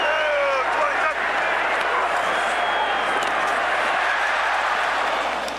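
Stadium crowd at a Monday night NFL game, Washington Redskins at Dallas Cowboys in 2005, roaring excitedly as a running back takes the ball, a loud, sustained cheer filling the whole clip.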